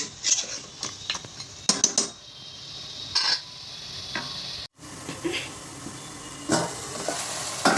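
Goat trotters fry with masala for shorba, sizzling in bursts with scraping stirs and clinks of a metal spoon against the pot, a brief pause near the middle, no talking.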